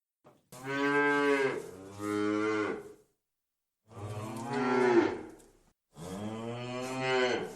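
Cattle moo in three long, loud, deep calls, separated by short pauses, heard up close with no other sounds.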